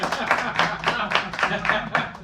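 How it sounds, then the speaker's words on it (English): Steady rhythmic clapping from a small group, a few hands beating in loose unison, moderately close with no talking. "Everybody give an applause for the audience."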